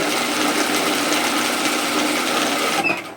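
A sewing machine runs continuously, stitching a seam on a medium lined reusable shopping tote, with a close, steady whirring drone that stops abruptly near the end; no speech.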